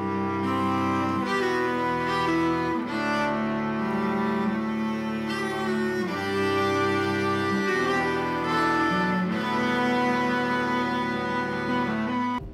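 All the string parts of a song's main loop play together, a dense layered stack of sustained notes with shifting low chords repeating steadily and loudly throughout, with no voices.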